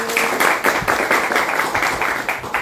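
Steady applause from a crowd, many hands clapping at once in a dense, continuous patter that stays loud throughout.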